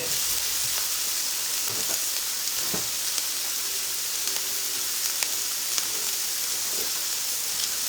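Onions sizzle steadily in a frying pan, a continuous close, even crackle with faint stirring ticks scattered throughout and no talking.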